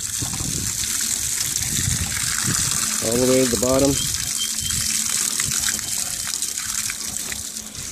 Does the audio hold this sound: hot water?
yes